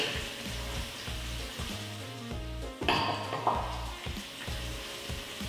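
Red onions and chillies sizzling in hot coconut oil in a pan for a Sri Lankan curry, a steady close fry with a brief clatter of a utensil and a louder spit partway through.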